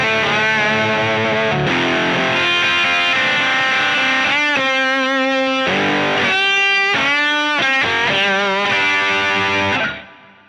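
Heavily distorted lap steel guitar plays a hard rock solo in D, with sliding, bending sustained notes and climbing phrases, loud and up front before a sudden cutoff at the end.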